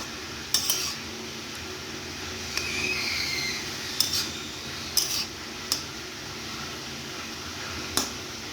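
Spoon scraping and clinking in a pan as potato leaf greens are stirred with crushed garlic and dried chillies, a few sharp metallic taps spaced over a soft background hiss.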